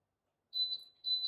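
Two high-pitched electronic beeps from a mug press reaching its resting temperature sound close by, the first longer and pulsing, the second starting after a short pause, with quiet surroundings.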